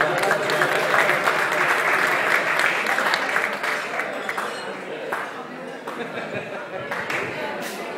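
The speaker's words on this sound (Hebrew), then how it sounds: "מגיע להם כפיים חזק רבותיי." A crowd at a ceremony claps steadily and loudly, the applause holding for several seconds and then thinning slightly as scattered claps continue toward the end.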